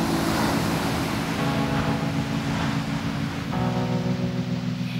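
Waves wash and churn in a continuous surging roar, with wind blowing and a low steady hum underneath.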